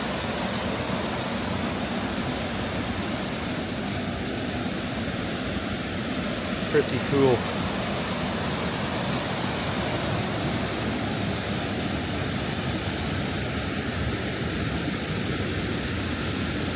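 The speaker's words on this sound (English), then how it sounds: "And the water, river raging over." River raging over rocks, a steady broadband roar of rushing water throughout, loud and constant, with a brief voice speaking midway.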